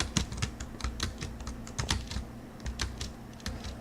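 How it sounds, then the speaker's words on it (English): Rapid keyboard and mouse clicks while playing a PC game, a steady run of crisp close taps and presses with short pauses, no speech over it. "There's going to be a lot of clicking noises"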